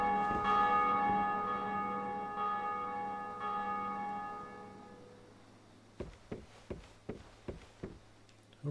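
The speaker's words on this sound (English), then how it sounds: "Can we ring the bell?" A deep bell in the Dark Souls 2 video game tolls with long, ringing overtones that slowly fade, followed by a series of sharp, regular knocks or clanks.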